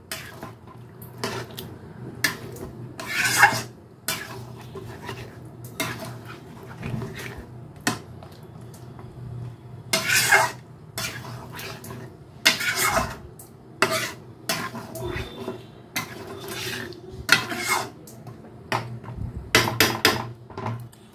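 A spoon scrapes and clinks around a pot while chicken is stirred with milk, giving a run of irregular metallic scrapes and knocks spread through the whole stretch.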